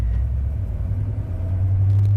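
A Chevrolet C6 Corvette rumbles as it drives, a deep continuous low engine drone that swells slightly toward the end, heard from inside the car with no talking.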